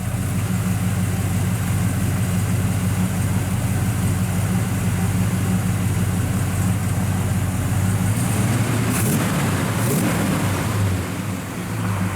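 A 1966 Chevrolet Chevelle 396 with four-speed, factory exhaust manifolds and 2.5-inch dual exhaust idles with a steady, deep, loud rumble, with a slight rev swell near the end.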